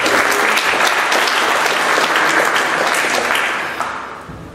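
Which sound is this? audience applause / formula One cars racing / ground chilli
audience applause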